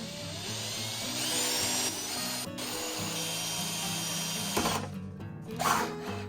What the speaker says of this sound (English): So get you a small drill bit to start with.